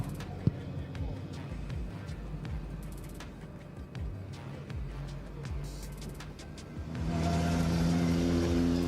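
Drift car engine at the D1GP Malaysia round, heard from a distance under steady commentary, with rising and falling rev sweeps that swell into a louder, sustained roar on throttle near the end.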